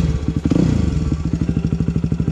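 Motorcycle being ridden through an industrial zone, its engine putting out a steady, loud, rapid pulsing throb with a brief clattering bump early on and no voices.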